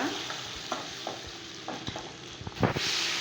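Tomatoes sauté in a pan for a garlic-tomato chutney, a soft sizzle under repeated spoon scrapes and stirring strokes, close and moderately quiet, with no talking.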